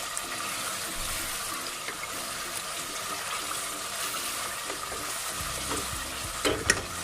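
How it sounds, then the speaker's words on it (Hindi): Chicken pieces frying in a pan while a spoon keeps stirring them, giving a steady, close sizzle with soft scraping taps throughout and a brief louder clatter near the end; no voices. "और इसमें हम चम्मच चलाते जाएंगे और इसको भूनते जाएंगे।"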